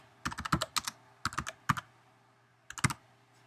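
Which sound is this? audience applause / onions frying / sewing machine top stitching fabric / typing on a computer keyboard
typing on a computer keyboard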